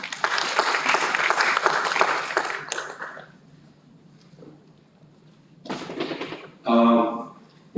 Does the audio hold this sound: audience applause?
yes